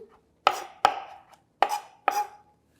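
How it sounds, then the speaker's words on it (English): A knife chops through a tablespoon of pressed garlic on a cutting board, four sharp, close strikes in an uneven rhythm, each with a short ringing tail, no voices. "Now we're gonna put a knife on it really quickly."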